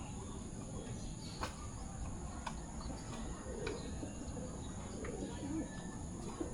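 Pigeons coo faintly at a loft, with soft scattered calls over a steady background hiss and a few sharp ticks.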